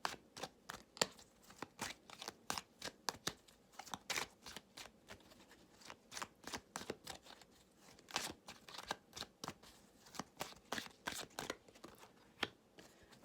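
Cards are drawn one by one for a reading, close, quiet sharp snaps and slides in an irregular rhythm of many short flicks spread across about thirteen seconds.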